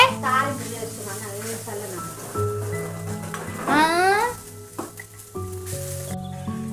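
Spices, green chillies, curry leaves and onion sizzle in a hot tempering for seasoned rice, bursts of frying hiss beneath a conversation between voices, including a child's.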